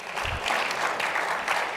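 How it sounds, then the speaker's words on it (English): Audience applause during a talk-show segment about governors and term limits, a steady wash of many hands clapping at moderate level through the whole stretch, with no voices on top. "you can applaud that as well"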